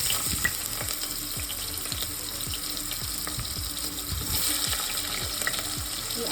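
Onions fry in oil for Ambur-style chicken dum biryani. A soft, even sizzle runs throughout with a string of light, regular scraping stirs close by.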